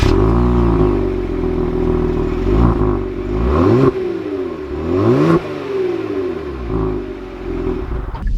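A 2020 Genesis G70 Prestige with the 3.3-liter V6 pulls away hard, its loud engine note climbing through several gears in rising sweeps with brief dips at each shift, heard close from inside the car.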